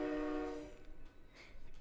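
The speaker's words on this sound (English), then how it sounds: "Hey, train." A train horn sounds one sustained, loud, harmonic blast that fades over about a second, followed by quieter rumbling noise.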